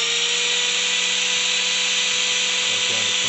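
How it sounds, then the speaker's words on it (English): An angle grinder runs off a 24V off-grid 3KVA pure sine wave solar inverter, giving a loud, steady, continuous whine from start to finish with no talking. "I'll just grab a grinder that I've got plugged in"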